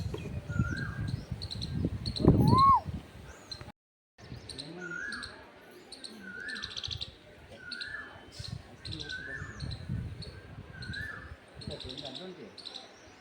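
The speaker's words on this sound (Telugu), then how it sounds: "చిలుకలది సౌండ్ వస్తుంది మార్నింగ్ ఒక్కసారి వినండి" Bright, repeated parrot chirps and short calls ring out in the morning over a quiet outdoor background, with some low rumbling noise early on and a brief gap.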